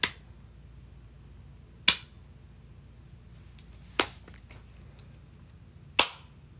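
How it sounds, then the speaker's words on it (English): Four slow, sharp claps spaced about two seconds apart, each a crisp isolated smack in a quiet room. "Stop slow clapping."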